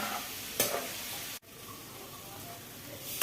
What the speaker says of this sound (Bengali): পেঁয়াজটা যতক্ষণ না লাল হচ্ছে ততক্ষণ কিন্তু হালকা হালকা করে ভেজে নিতে হবে